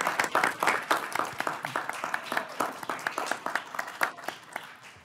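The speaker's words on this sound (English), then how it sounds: "Now you can jump up and clap" Audience at a school district governing board meeting clapping, individual claps sharply distinct and uneven in rhythm, moderately faint and continuing for several seconds.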